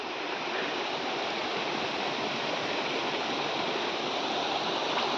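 Mountain waterfall in snowy Nepal terrain, a steady, unbroken roar of rushing water that stays constant and close throughout, with no voices over it.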